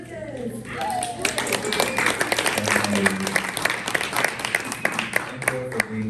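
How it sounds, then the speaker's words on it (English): Audience applause at an art and technology salon at Swissnex, a dense wash of many hands clapping steadily for several seconds in a room, with some voices mixed in. "Can everyone give a round of applause to Lucas?"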